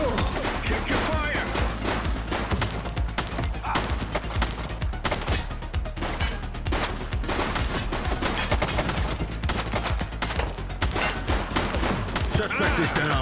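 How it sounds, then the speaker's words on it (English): Sustained gunfire from the police video game The Precinct, dense overlapping shots crackling loud and continuous through the whole stretch, with a busy mix of impacts layered over it. "Shots fired!"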